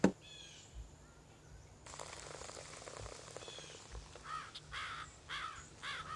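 Several crows caw in the distance, a few rough calls spaced apart over faint outdoor background noise.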